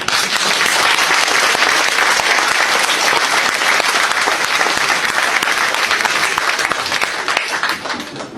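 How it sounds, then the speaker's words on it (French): Sustained, dense applause fills a concert hall after a piano recital, loud and steady for about eight seconds before easing slightly at the end. "Vous pouvez vous applaudir"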